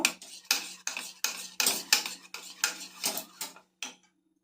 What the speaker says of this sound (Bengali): দিয়ে দিচ্ছি এক চামচ সয়া সস এটা ভালো করে আমি মিশিয়ে নেব